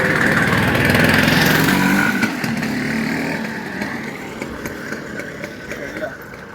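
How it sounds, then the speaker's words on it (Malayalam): A scooter engine passes close by on a walking path, loud at first and then fading over several seconds as it moves away. "സ്കൂട്ടർ വന്നു, ഈ വഴിയൊക്കെ സ്കൂട്ടർ വന്നുണ്ടോ?"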